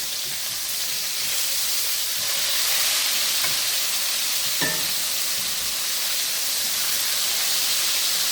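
Cube steak pan-frying in oil, a steady loud sizzle and hiss of spattering fat that runs unbroken from start to finish, with a couple of faint clicks from the pan.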